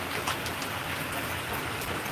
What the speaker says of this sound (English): it's raining so bad, y'all. My phones are getting wet.